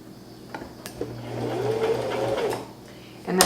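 A sewing machine stitches fabric for a scrunchie, a short burst of rapid mechanical whirring that rises and holds for about a second before stopping, with a few clicks and handling noises around it.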